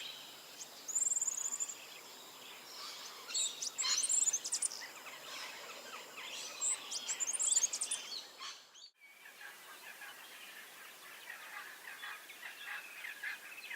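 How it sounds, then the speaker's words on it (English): A small rusty brown bird with a long cocked tail, likely a grasswren, calls in rocky spinifex country of Central Australia. High thin chirps and trills come in bursts, moderately near, with a quieter stretch of faint calls near the end. "Small rusty brown bird with finely streaked plumage and long cocked tail, found in rocky areas and gorges around spinifex clumps of Central Australia"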